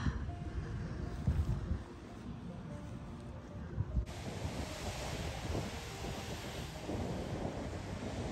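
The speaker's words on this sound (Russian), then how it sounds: "Вот такое море, друзья, вечернее." Evening sea on the coast at Skalea, Italy, waves washing onto the shore in a soft continuous surf wash with some wind buffeting the microphone.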